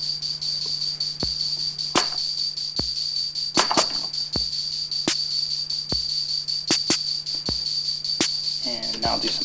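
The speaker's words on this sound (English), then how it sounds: "And now I'll do a snare drum." A Roland CR-78 drum machine plays a simple programmed beat with snare hits added, sharp clicky strikes over a low kick pulse and a steady electronic whine, with irregular accents between the regular hits.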